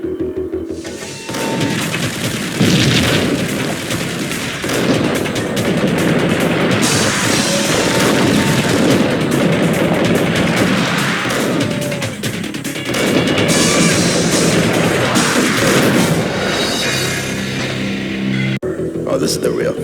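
Gunfire in the Max Payne shooter, with repeated shots, booms and crashes packed into a loud, sustained burst of action and a brief drop-out near the end.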